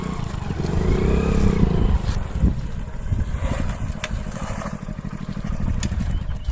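A motorcycle engine runs close by in the open air, a loud, rough rumble with rattling and wind buffeting on the microphone, fading slightly as it moves along.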